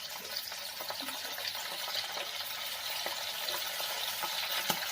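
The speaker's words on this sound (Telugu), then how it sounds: "ఇంకా మిగతా చికెన్ కూడా నేను ఫ్రై చేసేస్తున్నాను." Chicken pieces deep frying in hot oil for a restaurant-style crispy chilli chicken, giving a steady, close, dense sizzle and bubbling crackle throughout with no voices.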